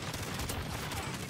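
Warzone video game gunfire rattles in a quick automatic burst, moderately loud and continuous across a brief moment with no voices.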